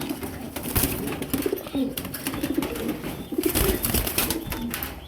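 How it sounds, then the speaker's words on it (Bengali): Female pigeon cooing repeatedly in close, steady rolling coos amid other pigeons, with faint rustling in the background. "অনেক সুন্দর একটা মাদি কবুতর"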